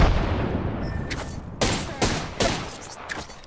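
Gunfire in the Apex Legends video game, a burst of rapid shots followed by several sharp, loud cracks in quick succession, close and punchy with no one talking.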